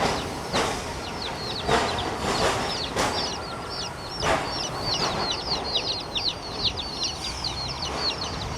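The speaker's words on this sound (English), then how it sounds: "the roosters are actually protected, and they're everywhere." Free-roaming roosters and chickens outdoors near an old cigar factory, clucking in quick bursts with several crows and chirps, mid-distance with some street background, no voices.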